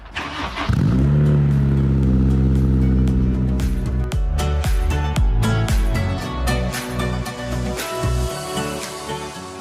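A green Honda S2000 fires up from a cold start. The engine catches after a brief crank and then revs loudly up and down at close range.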